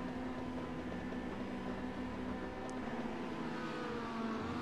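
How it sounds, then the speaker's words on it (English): Race car engines hold high revs on the starting grid of an iRacing 2018 BSRTC Pro Series race at Barber. A steady, droning mechanical hum runs throughout at moderate level, with no talking. "revs are rising, red lights are on again"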